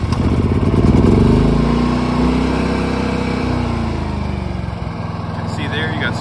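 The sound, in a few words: Predator generator engine starting and running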